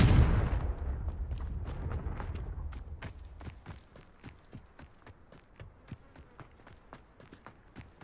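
A Confringo fire spell in the Hogwarts Legacy game opens with a loud blast that quickly decays, followed by a long run of sharp, evenly spaced clicks and taps that fade in strength.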